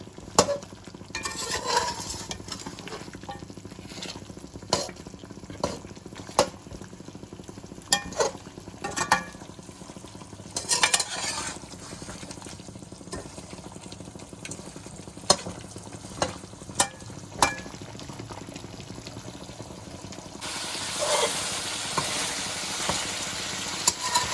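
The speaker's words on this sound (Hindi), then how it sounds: "स्पाइसेस के साथ इसे अच्छी तरह भून लेते हैं ताकि मसाले का कच्चापन जो है वो ख़त्म हो जाए" Meat with potatoes browning in a pot with spices, stirred repeatedly so that sharp clanks and scrapes ring out over a continuous sizzle, close and without talk.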